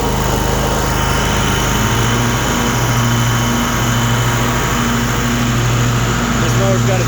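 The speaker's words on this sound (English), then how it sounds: "Good smooth running motor. I'll engage these blades for you." A 54-inch Cub Cadet RZT zero-turn riding mower runs at a steady, loud drone as its blades are engaged, a constant engine hum with a rising whine layered on top and no talk.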